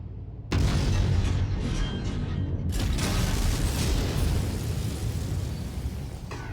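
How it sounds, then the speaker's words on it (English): A loud, booming explosion from a mech battle in MechWarrior 5 Mercenaries bursts in after a brief lull, then rolls on as a sustained, rumbling roar with creaking mechanical noise. "Nice explosion."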